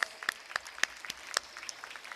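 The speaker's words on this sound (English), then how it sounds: "Give a big round of applause." Applause from the audience at a school sports meet in Salem: scattered, fairly faint individual claps in an irregular patter, quieter than a full ovation.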